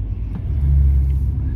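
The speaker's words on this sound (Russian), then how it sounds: "вон машина едет" A car passes close by with a steady low rumble that swells and then holds, with faint voices in the background.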